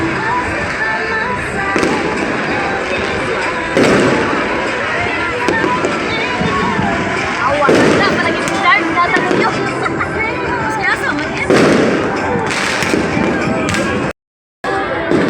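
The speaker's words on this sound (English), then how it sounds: "About a minute and a half of fireworks, maybe." Continuous crackling and booming New Year's Eve fireworks in Phuket Old Town, Thailand, with frequent loud bursts, a crowd murmuring underneath, ending in a sudden brief cut.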